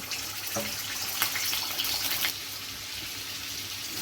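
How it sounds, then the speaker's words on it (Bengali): Paneer fries in a little oil in a kadai, giving a bright crackling sizzle that stays strong for about two seconds and then drops to a softer, quieter hiss. "এবার আমি দিয়ে দিচ্ছি পনিরটা একটু ভেজে নেব।"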